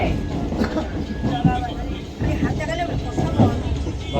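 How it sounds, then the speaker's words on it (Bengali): A local train rides toward Canning, a steady rumble and rattle heard from inside the carriage with a faint rhythmic clatter, people talking over it. "আমরা ট্রেনে করে এখন ক্যানিং যাচ্ছি।"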